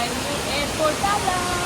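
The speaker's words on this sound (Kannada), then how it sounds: "ಇಲ್ಲಿ ಒಂದು ವಾಟರ್ ಫಾಲ್ಸ್." Indoor waterfall in the bamboo garden terminal at Bengaluru airport, a steady, loud, broadband rush of falling water that fills the space without letup, with faint murmurs of background activity.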